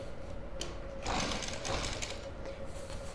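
Close, steady whirring and rapid chatter of a sewing machine stitching salwar fabric, running continuously for a few seconds at moderate volume with no speech.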